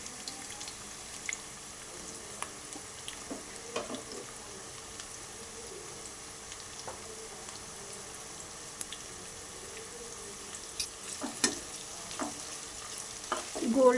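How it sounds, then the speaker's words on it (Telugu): Sliced onions deep frying in hot oil for chicken dum biryani, a steady soft sizzle with occasional crackles and pops that grow busier toward the end, close and alone without talk. "కొంచెం ఆయిల్ హీట్ ఎక్కిన తర్వాత కొన్ని ఆనియన్స్ మనం డీప్ ఫ్రై"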